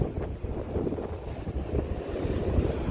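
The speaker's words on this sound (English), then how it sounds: "Sorry for the wind" Strong wind on a UK beach, buffeting the microphone in a constant low roar with rumbling gusts and faint surf beneath it, with no voices.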